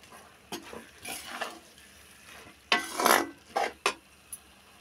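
Broad beans and tomato curry being stirred in a frying pan, with a steady sizzle under several scraping strokes of a spoon, a couple of them louder and close up.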